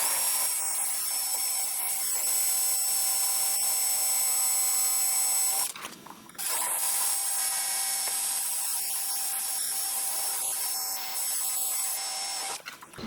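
A steady, close whine of a power drill boring a hole through material while repairing camper stairs, running continuously with one brief pause midway and no talking.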